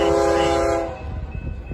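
A BNSF 7778 freight train horn blaring close and loud in a strong harmonic chord, then cutting off into the low rumble of the passing train.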